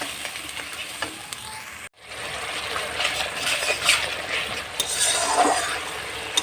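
Ginger, cumin, fennel and onion spice mix frying in hot oil in a pan for a freshwater magur catfish curry, a steady close sizzle with stirring scrapes and light clinks, briefly cut off near the start.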